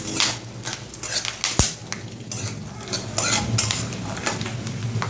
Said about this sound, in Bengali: তো বাদামটা মোটামুটি ভাজা হয়ে এসছে